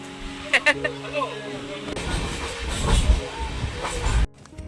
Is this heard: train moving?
yes